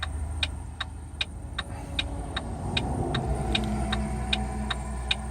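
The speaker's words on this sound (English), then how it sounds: "All these dump trucks are like flying by." Dump trucks speeding past on a 70 km/h roadside, a heavy, steady engine rumble heard close by, overlaid by a regular ticking like a turn signal.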